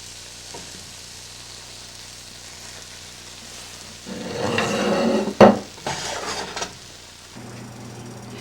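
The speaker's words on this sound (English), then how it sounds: "We have a lightly oiled nonstick pan, and we're just going to brown our bread on both sides." French toast frying in a lightly oiled nonstick pan, a soft steady sizzle that swells midway with a few sharp utensil clinks and scrapes, then settles back to a quiet hiss.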